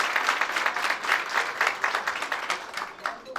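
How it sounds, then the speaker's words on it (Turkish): Sustained applause from an audience at a Turkish professional gathering in Ümraniye, a dense steady patter of many hands clapping in close surges, filling the room without a break. "Ümraniye alkışlıyoruz"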